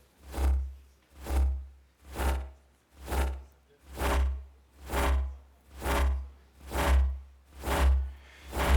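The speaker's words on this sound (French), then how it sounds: "C'est un son d'un frottement." A rhythmic rubbing or scraping sound repeats nine times at a steady pace, each stroke swelling and fading, with a low hum underneath and no talking.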